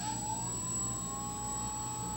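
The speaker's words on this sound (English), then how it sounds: "if we have the engine on a little bit" A Horizon Valiant RC airplane's electric motor runs steadily at close range for a couple of seconds, a sustained whining whir with a slowly rising pitch.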